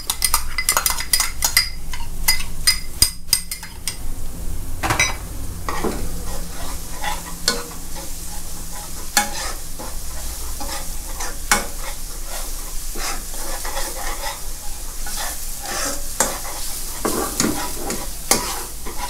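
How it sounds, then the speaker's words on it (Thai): Sauce with sliced shallots is stir-fried in a pan over medium heat for Korat-style fried noodle sauce, with constant sizzling and frequent scraping and clinking of a spatula against the pan, close and busy, with no talking. "เพราะว่าน้ำซอสตัวนี้เราต้องผัดให้ทุกอย่างสุกนะครับ"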